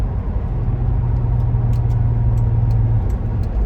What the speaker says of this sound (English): Without heel toeing, you just blip the throttle as you go along.